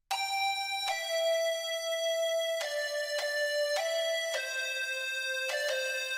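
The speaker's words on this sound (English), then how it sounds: "I basically took three lead sounds which play this melody" A bright synthesized future bass lead plays a simple stepped melody of sustained tones, clean and loud, with no voices.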